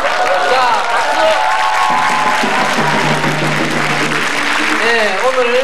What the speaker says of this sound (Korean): 자, 박수.